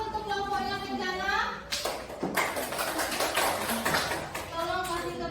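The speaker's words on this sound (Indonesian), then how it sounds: "Tolong kasih tepuk salut dulu untuk kelompok yang rencana" Children in a classroom clap their hands together for a group, a dense burst of applause lasting a few seconds between stretches of a teacher's voice.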